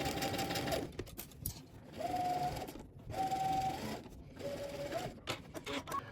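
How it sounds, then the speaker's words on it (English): A sewing machine stitches fabric in quick whirring bursts separated by short pauses, close and fairly quiet, with a faint whine in each run. "We're gonna head to the sewing machine and we're gonna stitch this down"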